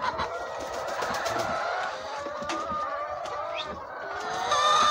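A flock of laying hens on an egg farm clucks and chatters continuously at moderate distance, a busy overlapping murmur of soft calls with occasional sharper squawks and no talk.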